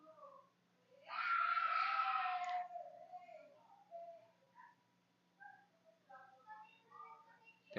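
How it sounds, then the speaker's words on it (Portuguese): Boys shouting while playing football behind a house, heard from indoors: a loud, sustained distant yell opens, then scattered fainter calls and cries drift in from farther off against a low steady hum. "Não sei se meu microfone tá captando esses gritos aí desses meninos jogando bola."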